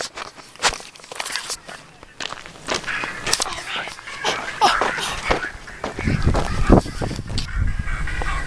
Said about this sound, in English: Bird.